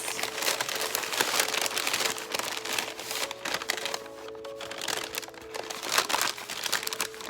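Close, continuous crinkling and crackling of a paper bag being folded over at the top, busy and fairly loud throughout with no speech.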